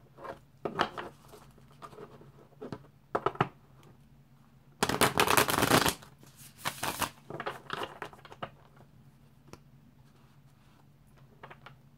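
Tarot cards are shuffled up close in crisp riffling bursts, with one long dense flurry in the middle and lighter taps and slides around it.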